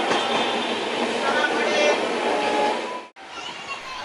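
Passenger train pulling out of Guwahati and rolling along, a steady broadband rumble of wheels and carriage noise heard from inside the coach, continuous and loud before a brief dropout near the end.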